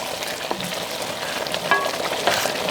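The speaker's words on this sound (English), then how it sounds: "I want to deglaze that. So I'm going to add some of that vegetable stock" Vegetable stock hits a hot pan of browned meat for Italian chili, giving a steady broadband sizzle with soft crackles and a couple of brief bright hisses, close and continuous with no talk.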